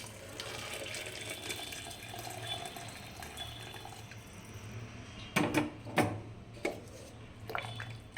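Heated water is poured into a cooking pot of millet, a gentle running splash with a few louder gushes and sloshes toward the end.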